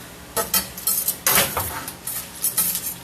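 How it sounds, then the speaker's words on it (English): A spoon scrapes and clinks against a pot while noodles are stirred, in irregular close strokes with metallic taps, no voices over it. "I'm stirring these noodles"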